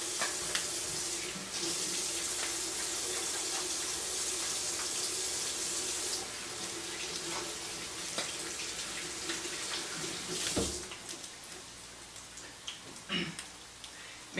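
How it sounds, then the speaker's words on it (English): A kitchen tap runs in a steady hiss as hands are rinsed beneath it, the flow cutting partway through, followed by faint splashes and small clatters at low level. "I need to rinse my hands real quick."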